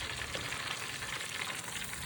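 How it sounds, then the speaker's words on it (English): A steak sizzles loudly and steadily as it cooks, a dense close crackle of frying fat with no pauses and no talking. "we're just gonna let our steak here cook for 5 minutes"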